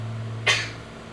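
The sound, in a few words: sneeze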